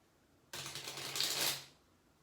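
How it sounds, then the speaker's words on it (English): A brief burst of riffling, papery flutter, rising then fading over about a second, with no voices. "I'm going to give these a few more shuffles, this deck a few more shuffles"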